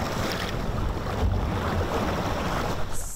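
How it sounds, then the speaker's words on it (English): Wind-driven lake water sloshes and laps in waves, steady and close, mixed with heavy rumbling wind noise and no voices. "it doesn't take a lot of wind to start sloshing that water around, and that is exactly what's happening behind us"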